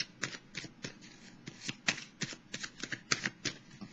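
A tarot deck is shuffled by hand, with a steady run of crisp, close card riffles and slaps in quick rhythm before a card is drawn, and no voices.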